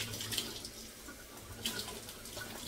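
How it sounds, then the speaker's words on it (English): Running tap water splashes over a blender as soap is rinsed off at a kitchen sink, a steady close stream with brief surges as the jar shifts under the flow. "And then we'll just rinse it out. Rinse that soap off."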